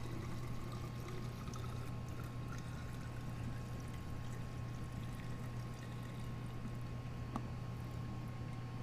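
Saltwater made from reverse osmosis water and salt is poured into an aquarium tank, giving a faint, steady, continuous splashing rush with no voices.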